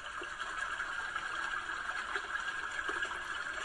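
A continuous, gentle trickling water sound from the brook setting of an Acacia Aurora projector night light plays evenly at low volume from a nearby speaker, with no talking.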